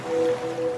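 Soft ocean waves wash in a radio ad for a scented product, a steady gentle surf with a faint tonal hum layered over it, no voices.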